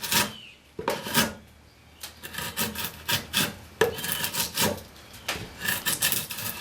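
Hand-carving wood with a scorp along the sweep: close, rasping scrapes in a steady run of about ten strokes, each a short burst with brief pauses between, and no talking.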